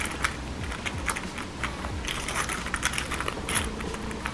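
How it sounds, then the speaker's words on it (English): A bunch of keys jangles and clinks continuously as it is pushed and maneuvered into a Louis Vuitton key pouch, close and crisp with bursts of metallic rattling. "I'm going to take the keys that are on the key clasp"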